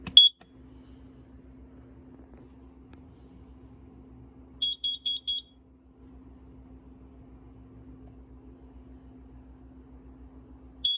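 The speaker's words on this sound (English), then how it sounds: "Basement carbon monoxide alarm." A C3010 carbon monoxide alarm in a basement gives short, sharp electronic beeps during a test: a quick burst at the start, a rapid run of four beeps near the middle, and another at the end, over a steady low background hum.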